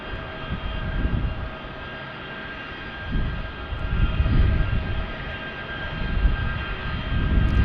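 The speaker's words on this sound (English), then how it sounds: "Listen to those engines." An aircraft with old Pratt & Whitney engines drones at an airport, a continuous engine roar with a steady whine that swells and fades in waves, moderately near and growing louder toward the end.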